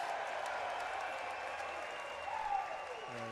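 Hockey arena crowd cheering and applauding during a Buffalo Sabres versus Montreal Canadiens prospects game, a broad distant roar with a faint tonal sound near the end.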